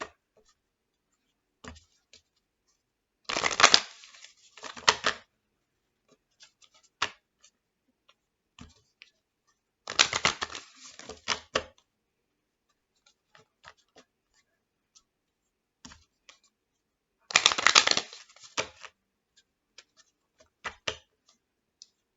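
Tarot cards are shuffled in three separate riffling bursts spaced several seconds apart, crisp and close, with scattered small taps and card handling in the quiet between.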